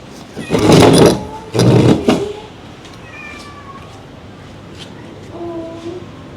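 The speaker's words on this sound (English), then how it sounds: "She heard a cat meowing in the distance" A few faint, distant meows drift in after some nearby movement noise, thin and high against a quiet outdoor background.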